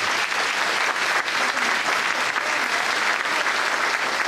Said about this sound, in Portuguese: Um aplauso para os nossos jovens